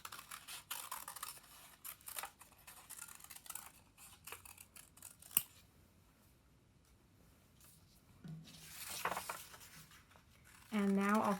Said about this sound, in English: So now what I'm doing is I'm cutting out that seaweed shape.